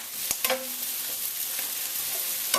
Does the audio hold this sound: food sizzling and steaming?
yes